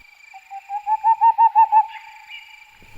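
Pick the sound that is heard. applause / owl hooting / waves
owl hooting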